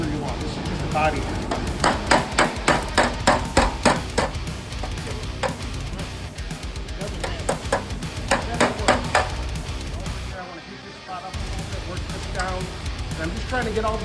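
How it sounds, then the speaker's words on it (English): Body hammer repeatedly striking cracked sheet metal during a crack repair, a run of sharp ringing metallic blows in quick bursts, close and loud, with someone talking between and over the strikes. "You can use any hammer you want. This is just a body hammer."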